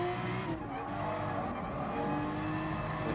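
A race car in Gran Turismo Sport drives at speed, its engine droning steadily through a corner with a faint tire squeal, fairly quiet and continuous.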